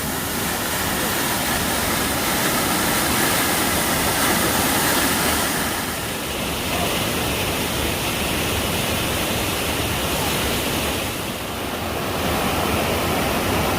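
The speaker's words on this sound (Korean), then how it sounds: "비오는 날 육단 폭포를 보고 계십니다" Heavy, constant roar of rushing water from Yukdan Falls on Seoraksan on a rainy day, a dense broadband wash with steady rain noise mixed in, no voices.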